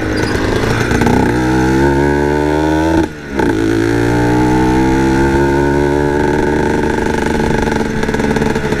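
A Yamaha TZM two-stroke motorcycle fitted with a 32mm PWK carburetor runs loud and close, its engine droning steadily and rising in pitch, with a brief cut around the middle before it keeps running.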